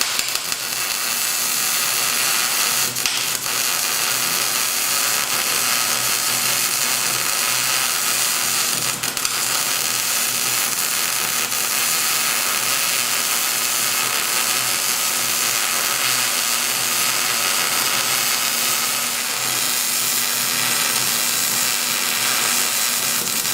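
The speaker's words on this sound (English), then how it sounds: "So what I'm going to do is I'm just going to continue on and just manually weld it" Continuous loud welding on zinc-coated metal, a steady broadband hiss and crackle that runs unbroken for over twenty seconds with only slight flickers, close up and with no voices.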